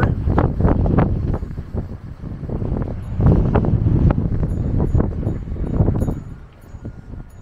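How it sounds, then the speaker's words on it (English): Strong wind buffets the microphone outdoors at a house in Washington, Utah, near St. George, loud rumbling gusts rising and falling in repeated bursts. "Really windy out there."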